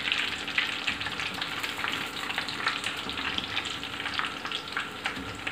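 Bread cheese balls frying in hot oil, a continuous close crackling sizzle with dense pops and bubbling that holds steady throughout, no voices.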